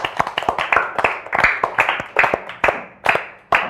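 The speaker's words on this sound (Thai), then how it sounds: "เอาปรบมือให้เพื่อนหน่อยครับ" Students in a primary-school maths class clap for a classmate, a ragged burst of separate, uneven hand claps close by that thins out toward the end.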